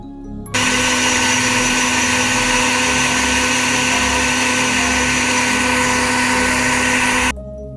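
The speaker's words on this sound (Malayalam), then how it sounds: "ഇതാ അപ്പോൾ അങ്ങനെ നമ്മൾ മിക്സിയിലിട്ട് അരച്ചെടുത്തിട്ടുണ്ട്" A kitchen mixer grinder blends bottle gourd with sugar and soaked cashews into juice, making a loud, continuous motor whine that starts abruptly, runs steadily for about seven seconds, then cuts off.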